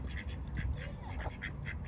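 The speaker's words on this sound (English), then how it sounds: "Come here, duck." A duck near a parked RV gives a run of repeated nasal quacks in a steady rhythm, fairly close, over constant low outdoor rumble.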